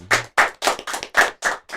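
Hands clapping to welcome a guest on a school podcast, seven close, crisp claps in an even rhythm with no talking.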